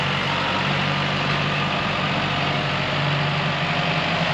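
A beach-cleaning tractor engine runs steadily on a Florida beach, a continuous low diesel idle-like drone with rumbling vibration, fairly close and unbroken throughout.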